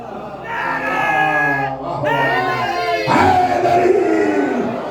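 A majlis congregation at an imambargah chants slogans in unison, loud and near, with two or three swelling collective shouts separated by brief dips.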